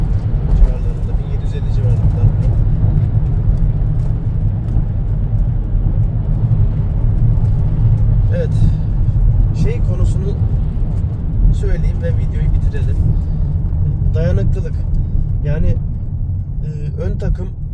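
A 2013 Peugeot Partner Tepee rolls along a rough road at steady speed, a constant low cabin rumble of engine and tyres with occasional knocks and rattles, while someone talks throughout.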